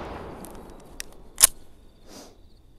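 An FN 509 CC Edge 9mm handgun fires a single sharp, loud shot, near and alone against quiet background noise, with a fainter click or clack before it and a brief echo after.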